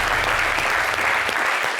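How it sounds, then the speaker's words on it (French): Studio audience applauding a guest named Tekis on a live entertainment show, a dense, steady wash of clapping that stays loud throughout and thins slightly at the end. "Je vous demande d'applaudir."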